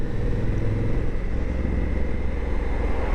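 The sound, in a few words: Honda motorcycle engine gargling while riding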